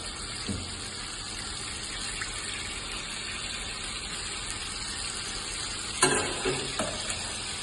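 Onions frying in sunflower oil for restaurant-style Turkish kuru fasulye give a steady close sizzle with faint stirring scrapes. A few brief louder clatters come near the end.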